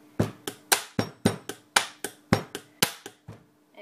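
A repeated pen-tapping beat on a surface, about a dozen sharp, close clicks in a steady looping rhythm, each with a short ringing tail, fading out at the end.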